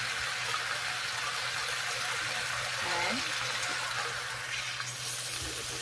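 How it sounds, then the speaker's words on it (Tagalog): Half a cup of water is poured into a pan of pork steak sautéing with onion and garlic, giving a steady, close splashing wash that runs under a man's speech. "Sa ngayon guys, maglagay na ako ng tubig."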